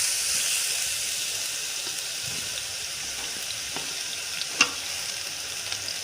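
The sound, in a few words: onions frying in oil in a wok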